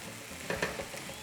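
Beef steak frying in a pan, a steady soft sizzle with brief scraping as the meat is moved and turned, fairly quiet and close, no talk.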